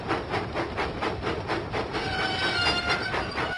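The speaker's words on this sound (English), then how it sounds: "Percy pumped his pistons and puffed out of the docks." Steam engine Percy from a Thomas & Friends video game puffing along the track, with a steady, loud rhythmic chuff and rattling wheels running continuously with no voices.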